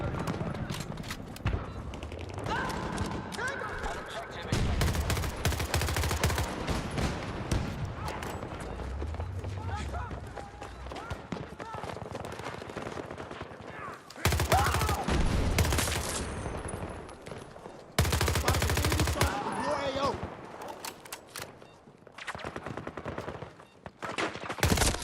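Gunfire in the video game Battlefield 6, played as a medic: dense bursts of rapid automatic shots and explosive bangs, loud and close, with quieter gaps and a player talking over parts of it.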